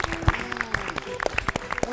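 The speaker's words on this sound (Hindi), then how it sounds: "तालियां।" Brief scattered clapping from an audience on a children's educational quiz show, a short burst of claps mixed with some talk.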